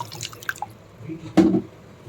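Water is poured straight into a pot of tomato rasam, a couple of small drips followed by one brief, close splash and gurgle.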